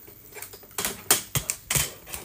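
A custom mechanical keyboard gives around ten crisp, sharp keystroke clicks in an irregular rhythm, close and distinct against a quiet background.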